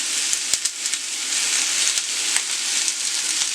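Oil sizzling in a pan while making a smoked sausage and potato casserole, a steady bright frying hiss with a few sharp pops and crackles, close and alone.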